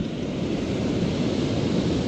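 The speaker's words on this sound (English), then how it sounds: "see the waves crashing right now?" Ocean surf rolls and crashes on an Oregon coast beach where someone is surf fishing, a steady, loud, broadband wash of breaking waves with some wind noise and no talk.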